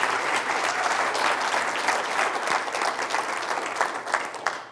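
An auditorium audience at a lecture on college student alcohol misuse claps steadily to welcome a speaker, a dense, even applause that gradually thins toward the end.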